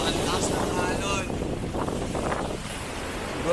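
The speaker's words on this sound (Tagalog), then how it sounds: "Siguro naririnig niyo yung hangin dyan sa camera." Wind buffets a camera microphone during a ride along the sea in Quezon, making a constant loud rumbling roar with faint surf and water noise underneath.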